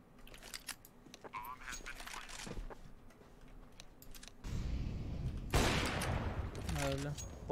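Bursts of gunfire in Counter-Strike: Global Offensive crack sharply in rapid clusters, with a dense flurry in the second half, while players talk over the shots.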